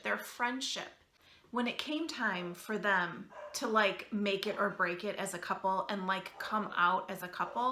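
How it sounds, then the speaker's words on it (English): A pet dog barks at the mailman from another room, its yaps and barks faint and intermittent beneath someone talking steadily up close. "excuse my dog barking in the background"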